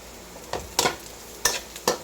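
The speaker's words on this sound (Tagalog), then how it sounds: "isasama natin na ang ating onion o sibuyas" Garlic and onion sautéing in a pan, with a quiet sizzle under four distinct scraping stir strokes spread across the moment.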